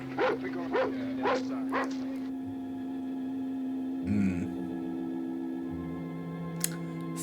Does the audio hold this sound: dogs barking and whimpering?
yes